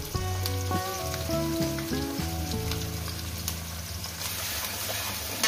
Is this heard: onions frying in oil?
yes